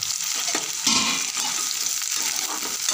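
Onion and chili hitting hot oil with cumin seeds already crackling, a loud, steady sizzle that flares briefly near the start and holds evenly to the end.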